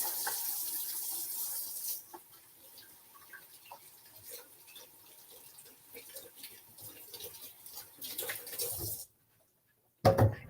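Tap water runs into a sink while hands are rinsed of pickling lime, a soft, continuous splashing for several seconds that stops abruptly, with a voice speaking faintly around it.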